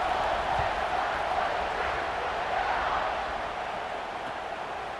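Steady roar of a stadium crowd in a college football video game, South Carolina at Ohio State, a loud continuous wash of cheering voices filling the whole stretch.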